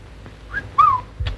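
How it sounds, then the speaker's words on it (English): A person whistles a short, clear tune in a 1940s British household scene, with two brief rising notes standing out against a faint car engine hum underneath. "I can hardly hear the car engine for whistles."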